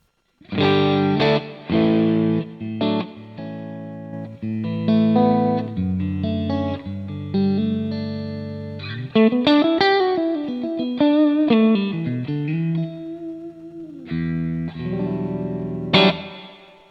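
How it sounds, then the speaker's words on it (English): Electric guitar through an IK Multimedia TONEX plate reverb with time near two seconds, distorted sustained chords and bends ringing loudly with a smooth reverb tail, played alone. "my favourite reverb that comes with ToneX is the plate reverb"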